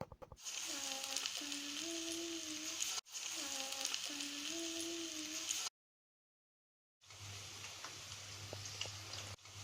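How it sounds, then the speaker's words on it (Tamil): Steady crackling sizzle of okra pieces frying in hot peanut oil, continuous and close, with a brief silent break before the frying resumes. "எண்ணெய் சூடானோடனே அதை வந்து ஒன்று ஒன்றா போட்டு ஃப்ரை பண்ணுங்கள்"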